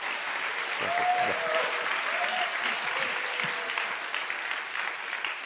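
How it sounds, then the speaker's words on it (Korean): A church congregation claps at a joint revival gathering to welcome a pastor to the pulpit, sustained applause from a large crowd with a few brief tonal sounds rising over it. "우리 큰 박수로 환영해 주시기 바랍니다"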